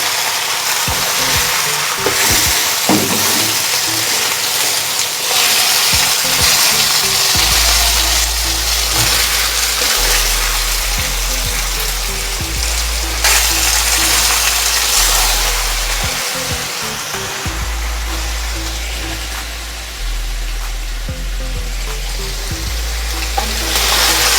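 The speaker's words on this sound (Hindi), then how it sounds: "चिकन डाल के चिकन को हम अच्छी तरह से फ्राई कर लेंगे।" Chicken sizzles and fries in oil in a karahi on the way to golden brown, a loud continuous crackle with a low rumbling hum underneath, steady throughout and close up.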